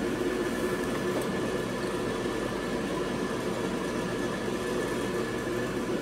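Dyna-Glo forced air propane space heater, 37K to 43K BTU, running with a steady, loud broadband roar and low hum throughout, no talk.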